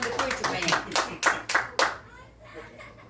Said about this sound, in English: Let's give him a hand, praise.